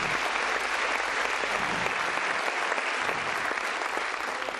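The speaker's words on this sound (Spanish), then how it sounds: "Si le vaya a dar un aplauso de alabanza, dásesela con fuerza, con ganas." A church congregation at an evangelistic crusade event in San Bernardo claps in dense, sustained applause of praise, a loud continuous wash of many hands filling the whole stretch without letup.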